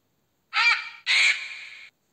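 A large black condor with white feathers around its neck and on its wings gives two harsh, raspy caws in quick succession, the second longer and drawn out, heard alone.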